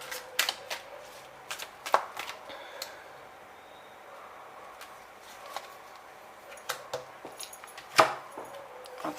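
Oracle cards being shuffled and drawn by hand, soft riffling and sharp snapping taps in scattered close bursts with quiet pauses between.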